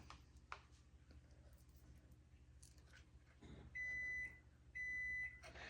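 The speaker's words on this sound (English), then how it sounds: "That's my oven's preheated." A home kitchen oven signals it has finished preheating with two loud electronic beeps, each about half a second long and about a second apart, over a quiet room with faint background noise.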